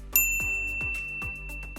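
A bright, clear bell dings once, sharp and close, then rings out in a long fading shimmer over a soft rhythmic background beat.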